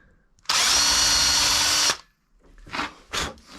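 Power drill with a 3.5mm bit boring a pilot hole into timber at a door hinge: one loud, steady burst of about a second and a half, followed by a few short, quieter drill bursts.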